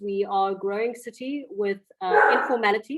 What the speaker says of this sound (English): Apologies, that's my dog.